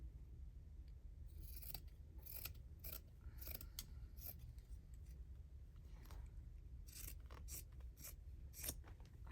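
Scissors snip out a fabric bunny shape for spring bunting, giving a run of quick, crisp cuts in uneven clusters, close by and fairly soft against a quiet low room hum.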